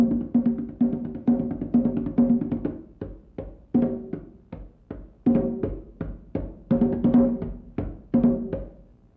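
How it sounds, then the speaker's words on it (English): Pentama, a sonorous West African hand drum, beaten in a repeating pattern of high and low strokes with quick flurries between, resonant and close with no voices. "The next drum is called a pentama and is a hand drum of a very sonorous nature."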